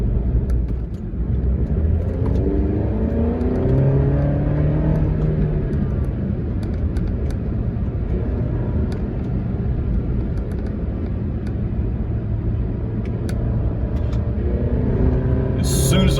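A 2017 Alfa Romeo Giulia with a GAN GT chip tune accelerating on an open road, a steady low engine rumble heard from inside the car with someone talking over it.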